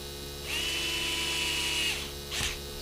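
Electric hair clippers buzz up for about a second and a half at close range, then cut out and briefly whir again, over a faint steady workshop hum.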